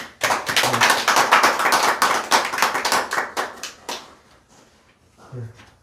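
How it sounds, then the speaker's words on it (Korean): Church members clap together to celebrate two birthdays, a loud burst of many hands that fades out after about four seconds and is followed by a brief murmur of voices. "한번 박수로 한번 축하하겠습니다."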